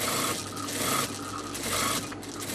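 Sewing machine stitches piping cord into bias binding for a neckline, a steady mechanical whirr with brief pauses and bursts of rubbing fabric up close.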